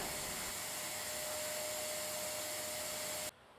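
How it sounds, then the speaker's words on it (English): Steady loud roar of a Eureka Forbes Ultimo 1400-watt wet-and-dry vacuum cleaner sucking up coins close by with a high whine, then abruptly cutting off near the end. "you can actually see the vacuum cleaner sucking it inside"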